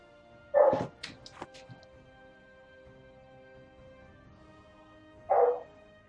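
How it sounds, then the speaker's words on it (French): A dog barks indoors twice, about five seconds apart: two short, sharp bursts with quiet room tone between them. "Je m'excuse pour le chien qui aboie."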